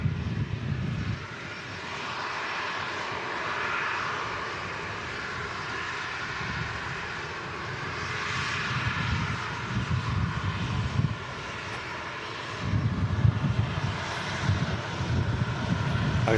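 Ryanair airliner arriving at Manchester Airport from Milan on a windy day, a steady loud jet engine roar with broad rumble that swells and holds throughout, gusts of wind buffeting the microphone.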